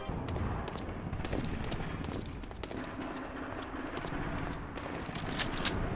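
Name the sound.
stray distant gunshots, video game Medal of Honor: Allied Assault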